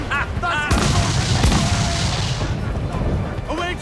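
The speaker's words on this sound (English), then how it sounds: "They've hit us, sir! They are firing, sir!" Naval cannon fire in the game Assassin's Creed Black Flag: a loud rolling broadside of heavy booms from a sailing ship, dense and close, with shouting voices before and after.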